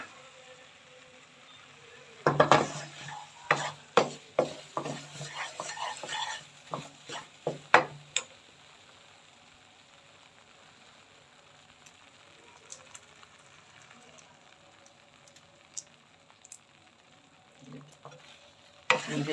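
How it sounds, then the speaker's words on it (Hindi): Gram flour (besan) roasting in a pan on a low flame, with a soft steady sizzle and a busy run of spoon scrapes and taps against the pan early on, then quieter sizzling with occasional stirs. "बेसन को मैं हल्की आंच पे भून रही हूँ।"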